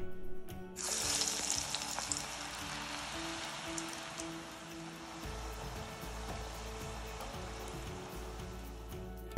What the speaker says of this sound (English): now I'm going to start frying this prepped eggplant